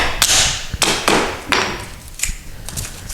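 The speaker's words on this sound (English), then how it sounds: "snap this stuff off here." Plastic parts snapped off the hardware while installing sliding closet doors: a series of sharp, loud cracks and snaps at uneven intervals, close by, with no talk.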